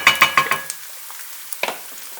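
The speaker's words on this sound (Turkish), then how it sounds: "Biberlerle beraber kavurmaya devam ediyorum" Onions and peppers sizzle and crackle as they fry in a pan, with a quick series of scraping stirs at the start and a couple more later, up close.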